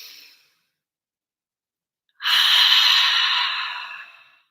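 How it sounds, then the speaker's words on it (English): A single deep breath released through the mouth on an audible "ha" during a relaxation exercise, a long breathy exhale that starts after a quiet pause, near and alone, then fades out. "Filling up your lungs and then expelling all the air out through a ha through your mouth."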